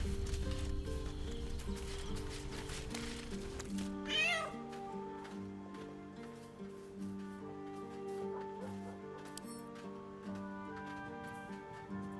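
A cat meows in Baldur's Gate 3, a single rising cry around the fourth second, set against a steady bed of game music and ambience with no talking.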